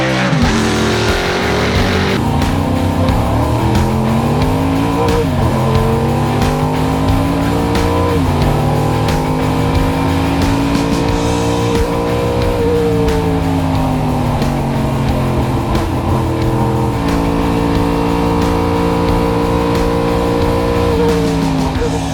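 A Spice SE92 GTP Group C race car drives at speed, its engine loud and near, revving and shifting through rising and falling pitch sweeps with tyre noise across the run, no talk.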